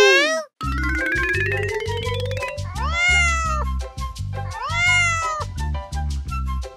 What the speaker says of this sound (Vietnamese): Đây là chú mèo của cháu.